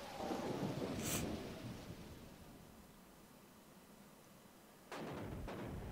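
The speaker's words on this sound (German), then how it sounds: "Sieht nach einem heftigen Gewitter aus heute Nacht." A thunderstorm in the Pokémon Mystery Dungeon game: steady heavy rain hiss with a low rumble of thunder, a bright crack early on and another burst of rain and thunder near the end.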